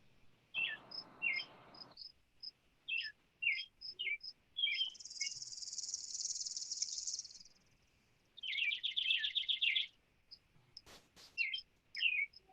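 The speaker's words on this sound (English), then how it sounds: "So it sounds like you have a lot of birds in the house." Many small birds chirp and tweet indoors in a house, a busy overlapping chorus of short repeated calls and trills with brief bursts of sustained high twittering, fairly close and with no talking.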